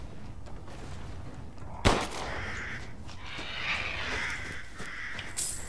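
A single sharp gunshot rings out in Resident Evil Village, fired at a crow, with faint crow caws and eerie game ambience around the lone blast.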